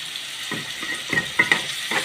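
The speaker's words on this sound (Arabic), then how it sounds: "احور الرز مع السمنة والزيت" Basmati rice with spices being stirred in hot ghee and oil in a pan, a steady close sizzle broken by several scraping stir strokes, with no talking.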